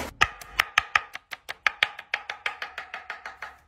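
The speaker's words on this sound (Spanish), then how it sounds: "Picamos." Fresh cilantro being chopped on a cutting board with a knife, about twenty sharp, evenly spaced chops in steady rhythm, close and clear with no voices.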